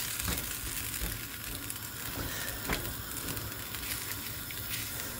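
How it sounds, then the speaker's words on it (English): Red kidney beans for rajma cooking in a pot with onion and spices, a quiet continuous sizzle with faint crackles and an occasional soft stir. "gonna let that cook up with this, with the onion, the spices"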